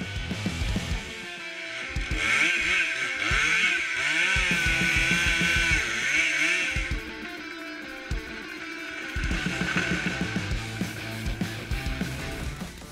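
A Stihl MS881 chainsaw cuts through an oak tree in a small forest, its loud engine droning steadily with rising and falling revs for most of the stretch, easing briefly before roaring back.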